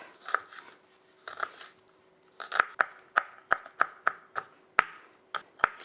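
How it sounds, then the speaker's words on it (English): A knife chops garlic on a cutting board in a home kitchen, with sharp close knocks that come in short bursts, then a quicker steady run of evenly spaced strikes. "give it a good chop"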